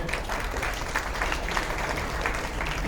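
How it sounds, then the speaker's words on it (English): A conference audience claps steadily, a dense continuous patter of applause from many hands at moderate volume. "I think you guys need to clap for yourselves"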